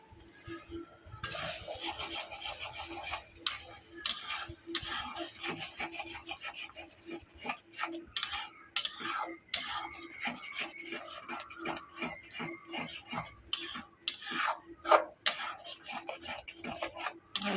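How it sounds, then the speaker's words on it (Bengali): A spoon scrapes and stirs spice masala with cashews and yogurt in a pan in quick, repeated rasping strokes, close and fairly loud, with no talk. "ভালো করে এবারে এটাকে আমি কষাতে থাকবো"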